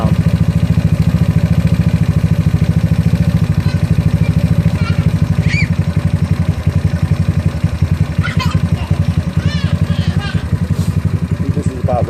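A GY6 scooter engine fitted with an OKO PWK 30mm carburetor idles steadily throughout during carburetor tuning, a constant near low throb with faint clatter and small high chirps on top.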